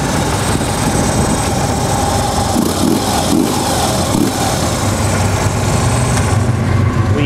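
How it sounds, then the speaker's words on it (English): Harley-Davidson Electra Glide police motorcycle (FLHTP) idling steadily, a loud continuous low engine rumble with valve train chatter throughout, no speech. "Starts up fine. That motor sounds good."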